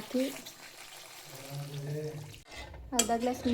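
Half a glass of water is poured into a pan of chicken masala with capsicum and paneer, a brief, quiet splash near the end amid soft kitchen sounds and utensil clinks, with a voice talking over it.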